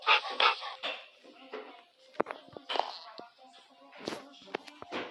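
A Minecraft dog whimpers and gives a few short yips and barks, mixed with light clicks and footsteps, at moderate volume with brief gaps between sounds.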